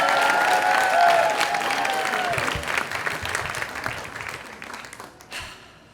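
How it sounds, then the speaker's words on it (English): An audience at a live storytelling event claps and cheers loudly, the dense applause gradually thinning and fading over several seconds with a few last scattered claps. "Give it up, everyone. Make it loud."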